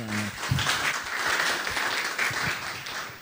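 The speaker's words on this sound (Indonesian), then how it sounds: "Ya, tepuk tangan buat Mas Guru." An audience at a seminar on the ASEAN Economic Community applauds a guest, sustained clapping of moderate loudness that starts just after a brief tone and carries on evenly to the end.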